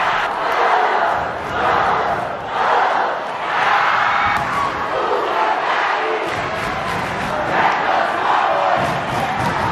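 Crowd at a sold-out Campbell vs Mililani high school basketball championship game roars and cheers continuously, loud and dense, with swelling surges and brief dips in intensity.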